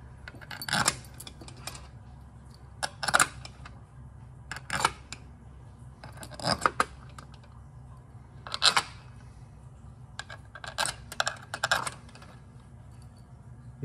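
Bolts going into a Subaru Legacy 5AT (5EAT) automatic transmission valve body during a rebuild: sharp metallic clicks and taps come in short separate bursts, close and fairly faint against a quiet background.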